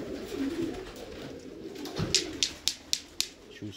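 Low pigeon coos early on, then a run of sharp rhythmic claps like wing flaps or taps as birds are coaxed out into the winter sun, close and moderately loud.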